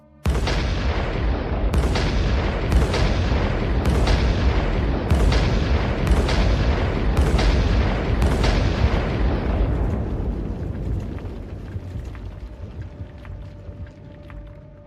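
Massive WWI mine blasts at Messines in 1917 erupt as a rapid series of about nine heavy booming explosions, loud and close, before the roar fades into a long low rumble.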